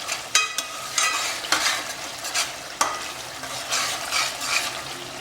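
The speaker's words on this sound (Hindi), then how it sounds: "इधर मसाला भुन रहा है। मेरा जो ये तेल है गरम है" Masala for chicken biryani fries in hot oil, a steady close sizzle broken by repeated scraping strokes of a stirring spoon against the pan, with no voices.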